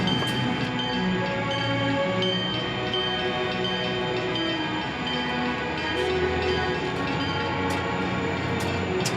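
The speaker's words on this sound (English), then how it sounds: "With a green light from the operator of BNSF's Grassy Point Drawbridge, CP's transfer train moves through Superior's Winter Street corridor" A CP transfer train rolls through the Winter Street rail corridor in Superior near BNSF's Grassy Point Drawbridge: a continuous loud rumble of railcars with metallic squeals and a brief horn note, close by and steady throughout.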